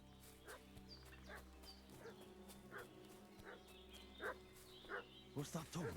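A dog barks repeatedly in Kingdom Come: Deliverance II. The sharp yaps recur at uneven intervals over a low ambient bed of the game world and get closer and busier toward the end.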